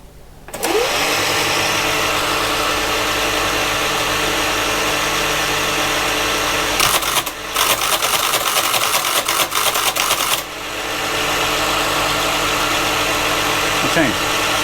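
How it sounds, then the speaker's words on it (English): A Creed 7B Mark 1 teleprinter in loopback mode prints its answer-back code from the drum, a dense burst of rapid mechanical clatter lasting a few seconds over the steady loud hum and whir of the running machine. "it will then type out the code that's in this drum"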